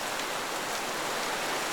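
Steady rain falls on Paris streets, a dense even hiss of drops on pavement with no breaks or voices.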